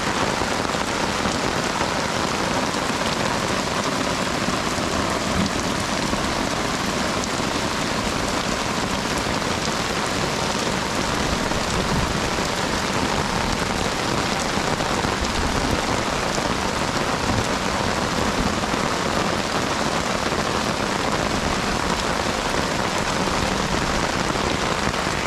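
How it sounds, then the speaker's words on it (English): Heavy rain pours without pause on a hiker's campsite along the Appalachian Trail in New Hampshire, a loud, continuous hiss of drops splashing on surfaces throughout. "I mean, it's pouring right now."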